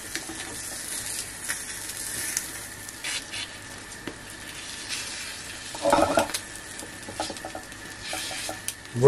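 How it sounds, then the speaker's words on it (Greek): An omelette with parsley frying in a pan, a steady close sizzle with occasional scraping and stirring knocks, busier near the end. "Αφήνουμε να τηγανιστεί καλά από τη μία μεριά."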